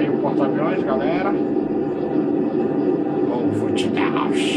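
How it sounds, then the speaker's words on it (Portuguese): An F-18 jet in a flight game skims low over an aircraft carrier. Its engine gives a steady, airy roar, and someone talks over it for most of the stretch. "Aí galera, o porta-aviões de onde decolemos, fazendo voo rasante."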